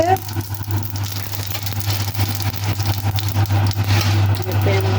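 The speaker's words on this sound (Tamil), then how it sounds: "முதலாவது கொஞ்சம் கடுகை போட்டு பறக்க விடணும்." Mustard seeds spluttering in hot oil for a cassava dish, giving a continuous close crackling sizzle with scattered pops over a steady low hum.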